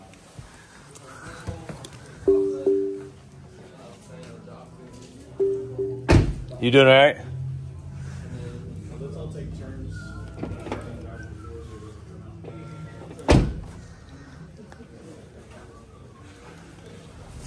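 Doors of a 2024 Platinum pickup truck being opened and shut, a few sharp thunks and clicks spread across the stretch, with someone speaking briefly in between.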